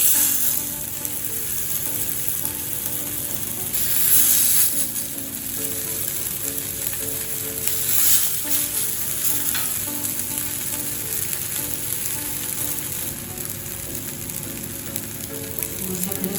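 Cutlets (tikki) fry in oil in a pan with a steady, close sizzle throughout, brief louder bursts of spattering rising here and there as the evening tea-time snacks cook.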